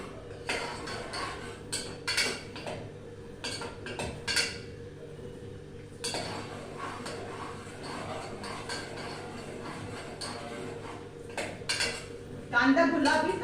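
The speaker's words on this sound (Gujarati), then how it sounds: "હવે આપણે કાંદામાં હાથ ફેરવીએ જરા." Onions stirred in a pan on a gas stove, a spoon scraping and clinking against the metal in intermittent bursts, with a person talking at times.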